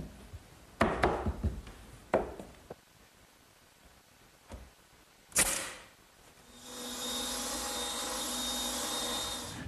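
A few scattered knocks and clatters in a woodworking shop give way to a saw spinning up into a loud, steady whine as a board is ripped to width.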